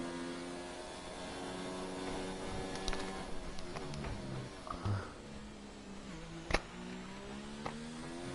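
F1 race car engine in a video game on a hot lap at Bahrain, a faint steady whine with smooth gear-change shifts and an occasional click.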